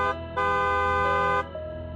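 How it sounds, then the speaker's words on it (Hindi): Car horn honking as an audio drama effect: two loud blasts, a brief toot followed by a longer held honk, close and alone over low road rumble. "काफी हॉर्न भी बजाया"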